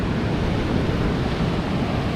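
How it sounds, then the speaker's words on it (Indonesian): Fairly big waves at Lhoknga beach, Aceh, produce a continuous, dense rumbling wash of surf, mixed with gusty wind noise on the microphone. "cukup besar ombaknya."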